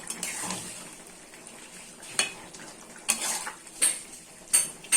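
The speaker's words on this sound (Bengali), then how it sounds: "ঢাকনাটা খুলে দেবো, দেখি আলুটা সেদ্ধ হয়েছে কিনা।" A metal lid is lifted off a cooking pot of boiled potatoes and vegetables for Bengali shukto, giving several sharp clinks and scrapes close by over a quiet simmering background.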